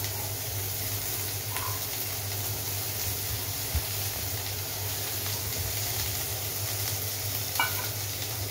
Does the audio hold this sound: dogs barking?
no